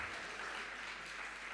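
A church congregation claps together in steady, even applause, a faint and distant wash of many hands sustained without pause.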